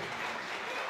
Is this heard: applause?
yes